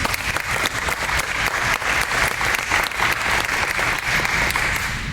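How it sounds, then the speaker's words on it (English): Sustained, dense applause from a large conference audience, steady and loud throughout with no voices breaking through. "And I just give them a round of applause"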